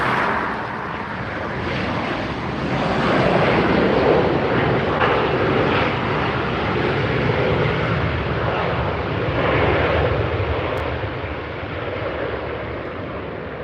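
Alaska Airlines airliner roaring past at LAX, a loud, broad jet engine rumble that swells and holds steady throughout, close and dominant with no talk over it.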